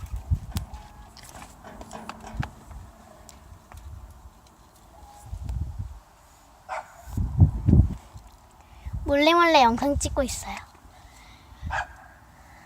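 A dog gives a few barks and a wavering whine between stretches of quiet talking nearby.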